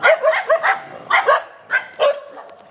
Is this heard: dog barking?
yes